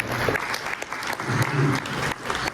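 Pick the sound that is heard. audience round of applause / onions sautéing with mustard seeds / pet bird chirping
audience round of applause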